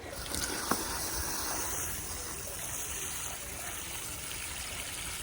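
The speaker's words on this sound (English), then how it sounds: "now I'm gonna water it in" Water pours and splashes steadily onto soil and newly planted plants, a continuous soft gushing close by with a brief knock near the start.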